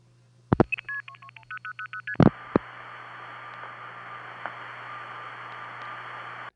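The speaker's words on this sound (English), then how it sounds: "from my parents' line, long-distance calls went through like this." Old telephone network long-distance call on a Number 5 Crossbar line: a rapid run of dialing tones and clicks, a couple of sharp switching clunks, then a steady hissy line tone with faint clicks.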